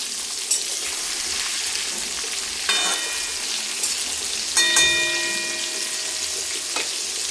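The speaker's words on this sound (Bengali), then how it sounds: "আমি সব মাছগুলি একেবারে ভাজতে দিয়ে দিয়েছি।" Pieces of rohu fish sizzle and spit in hot oil, a steady bright crackle with a few sharper pops and clinks of a utensil against the pan, close and with no talk.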